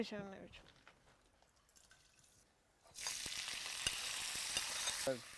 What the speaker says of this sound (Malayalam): ഈ എണ്ണയിലാണ് ഈ നമ്മൾ നേരത്തെ ചതച്ച് വെച്ചത് വഴറ്റിയെടുക്കുന്നത്